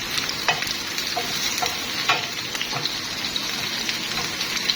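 Onions sizzle and crackle steadily in a hot pan, a constant frying hiss with occasional small pops and stirring scrapes, close up and without talk.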